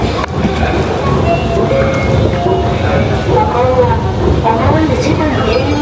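Train pulling into a Tokyo station platform: a steady loud rumble and mechanical whine under busy crowd voices.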